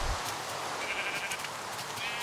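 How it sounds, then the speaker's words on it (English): Sheep bleat in Minecraft's blocky farm world, a clear nasal baa rising above the game ambience, close and alone with no talk over it. "Alright, sheep, show me what you got."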